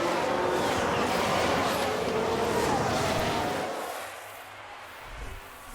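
F1 race cars roar past on the Bahrain circuit in F1 Manager 2022, a loud, dense engine wash that fades away toward the end as the field moves on.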